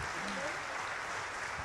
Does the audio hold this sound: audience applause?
yes